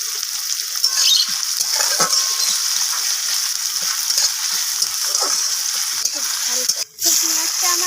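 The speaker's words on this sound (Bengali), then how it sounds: "তো তেলটা গরম হয়ে গেছে, এখন দিয়ে দিলাম আমি এর মধ্যে কেটে রাখা পেঁয়াজগুলোকে" Chopped onions fry in hot mustard oil in a pan, giving a loud, continuous close-up sizzle with crackles and a brief stirring clatter near the end.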